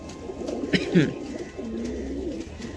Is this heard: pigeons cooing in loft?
yes